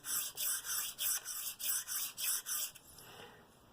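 A CRKT knife drawn across a KME sharpener stone in about nine steady, even rasping strokes, fairly close and clear, then fading to a quieter scrape at the end.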